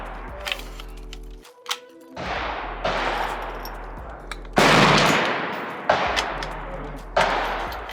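Guns firing at an outdoor shooting range while sighting them in, several sharp, loud shots spaced a second or so apart, each ringing out with a decaying echo over a low steady hum.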